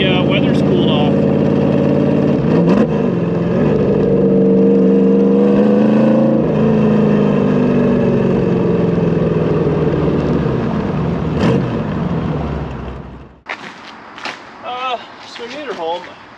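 A 1966 Shelby Cobra, once abandoned in a shipping container, drives along with a loud, steady engine drone close by and brief revs near the start and middle, then cuts out toward the end, leaving quieter scattered sounds.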